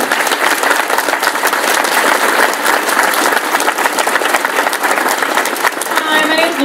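A crowd gives loud, continuous applause for a mother, close and dense clapping holding steady throughout, with a brief voice near the end.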